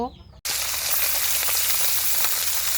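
Spice-coated chapila fish dropped into hot oil, setting off a sudden loud, dense sizzle that keeps crackling steadily close by after a brief moment of quiet at the start.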